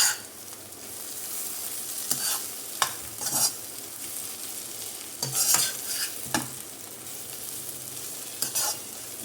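Potatoes coated in masala fry in a pan over a medium flame, a soft steady sizzle broken by loud scraping and clanking strokes as the spatula stirs them.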